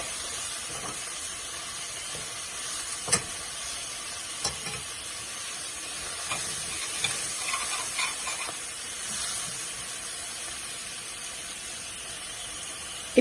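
Spinach being stirred and fried in a pan with ginger garlic paste for a simple spinach curry, a steady soft sizzle and hiss with occasional faint scraping taps of stirring, close and fairly quiet.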